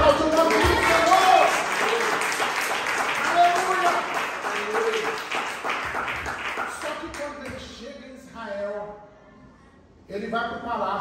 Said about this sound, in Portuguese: aplaude o nome do Senhor